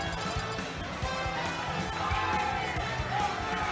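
A crowd at a Super Smash Bros. Ultimate tournament match cheers and murmurs in a dense, roomy wash, with rising shouts over the continuous noise.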